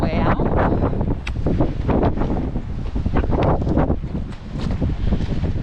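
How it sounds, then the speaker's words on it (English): Strong wind on a hiking trail in Guadalupe Mountains National Park buffets the microphone with a loud, continuous rumbling roar that surges and dips in gusts. "The wind's at our back now, so we'll try this again."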